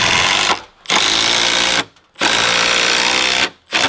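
An impact driver sinks 5.5-inch anchor screws through doubled deck framing into a post. It gives three loud bursts of buzzing hammering, each about a second long, with short silent pauses between them, and no voices.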